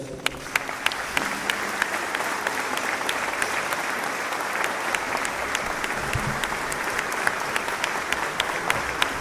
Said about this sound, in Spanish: a quienes les brindamos un fuerte aplauso.